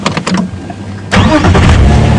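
A safari vehicle in a game reserve cranks and fires up, the engine catching suddenly after a brief quieter stretch and settling into a loud, close, steady running rumble.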